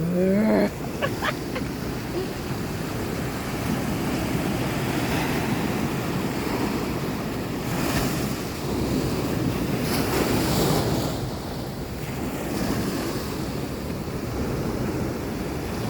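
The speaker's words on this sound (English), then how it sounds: "The ocean is so loud." Loud ocean waves surge and crash against rocks near the shore, with a constant roaring wash, gusty wind buffeting the microphone, and swells rising and falling over the stretch.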